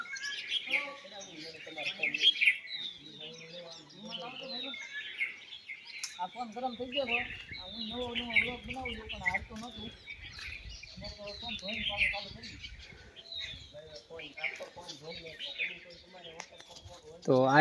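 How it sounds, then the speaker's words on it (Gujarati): Birds chirping and calling in a garden at a Hanuman temple in a forest, with bright, repeated tweets scattered throughout and some faint voices in the background. "સરસ મજાના પક્ષી છે."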